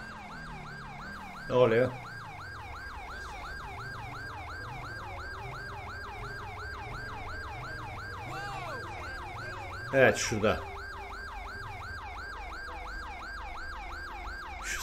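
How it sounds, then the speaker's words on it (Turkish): Police siren in the video game GTA 5, a steady fast wailing cycle running throughout, with two brief bursts of speech over it. "Şu sireni bir kapatayım ya."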